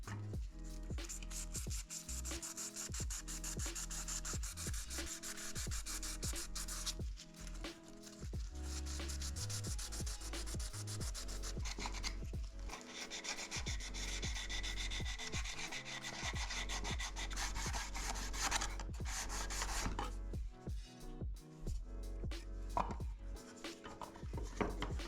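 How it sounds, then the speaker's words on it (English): Sandpaper rubs over hardened filler on carbon exhaust tips for a ZX6R motorcycle, a close, continuous rasping scrape in steady back-and-forth strokes with brief pauses. "As soon as the filler hardened, I levered the surface with sandpaper and lastly cleaned with acetone."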